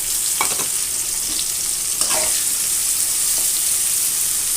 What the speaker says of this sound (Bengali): এখন এটাকে ভেজে নিচ্ছি।